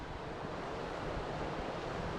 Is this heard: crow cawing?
no